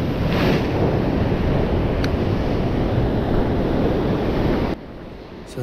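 Ocean waves and heavy swell wash steadily against a rocky shore in New South Wales, Australia, a loud continuous roar with wind buffeting the microphone that drops away abruptly near the end.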